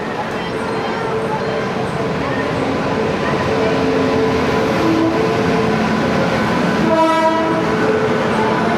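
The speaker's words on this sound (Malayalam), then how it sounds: "അപ്പോൾ അങ്ങനെ ഫൈനലി കേരള എക്സ്പ്രസ് കയറി വരുന്നു" Kerala Express passenger train pulling into a station, a steady loud rumble of wheels and carriages throughout with a brief horn blast near the end, voices faintly mixed in.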